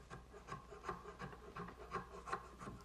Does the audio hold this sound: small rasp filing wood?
yes